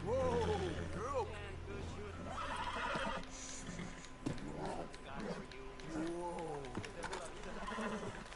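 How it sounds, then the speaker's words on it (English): A horse in a PS4 video game whinnies several times with rising and falling neighs, along with soft hoof clip-clops, over a steady low hum; the sounds are close and fairly loud. "I am talking to my horse."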